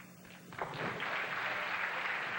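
A bowling crowd in Windsor, Ontario applauds a spare conversion, with clapping swelling quickly into sustained applause at moderate distance.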